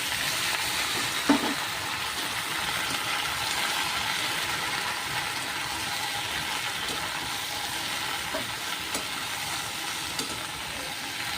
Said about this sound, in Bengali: আমরা বন্ধুরা এভাবে ভেন্ডি ভাজা করি।